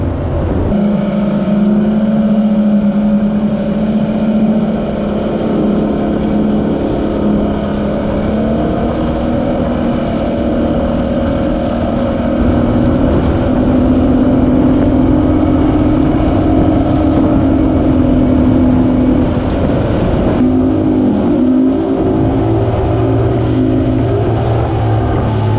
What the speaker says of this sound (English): Captain Chuck must now navigate the tricky waters of the Haulover Inlet with a boat in tow.